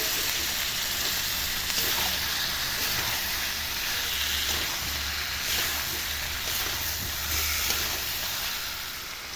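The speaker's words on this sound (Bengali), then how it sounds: "এবার আমি এর মধ্যে চিকেনটাকে দিয়ে দেবো। চিকেনটাকে দিয়েও কিন্তু কষাতে হবে।" Chicken breast pieces sizzling steadily with potatoes in a hot pan, a constant loud hiss and crackle of frying throughout, with no talking.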